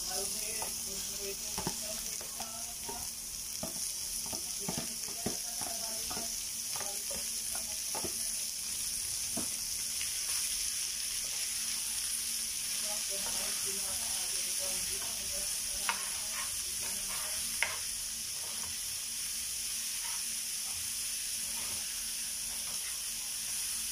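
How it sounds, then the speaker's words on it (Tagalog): Milkfish (bangus) meat for sisig frying in a pan, a steady loud sizzle with stirring scrapes and crackling pops throughout. "ilagay ko na po yung meat ng bangus"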